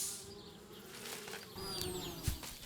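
Bees buzz in the Anna's Quest adventure game, a busy insect drone layered with faint game ambience and a few brief tonal sweeps, steady and moderately close, with no talking.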